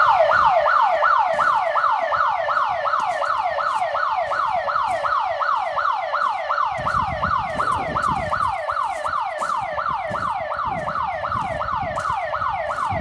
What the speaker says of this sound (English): That's quite a loud siren.